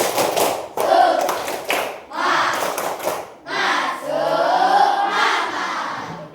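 A class of students claps in a quick rhythmic pattern, with voices chanting loudly along between and over the claps.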